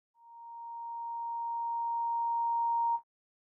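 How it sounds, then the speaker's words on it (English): A steady, very loud pure sine tone at about 1 kHz sounds alone for roughly three seconds, holding an even pitch, then cuts off abruptly with a brief click. "This is just going to be a very loud sine wave."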